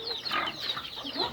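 Several chicks cluck and chirp close by in quick, overlapping bursts, moderately quiet with no voices.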